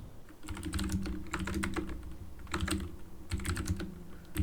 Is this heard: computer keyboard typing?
yes